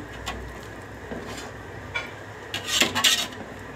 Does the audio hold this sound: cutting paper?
no